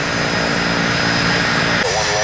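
Jet airliners, a JetBlue jet and another aircraft, roar loudly side by side along the runway at Tampa airport at sunrise, a dense steady engine rush that shifts tone near the end, with a voice talking over it.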